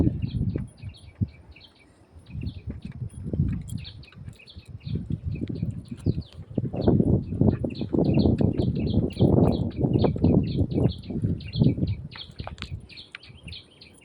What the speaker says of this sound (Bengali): কত ধরনের পাখি ডাকছে।